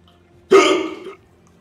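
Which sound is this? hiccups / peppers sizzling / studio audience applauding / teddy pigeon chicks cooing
hiccups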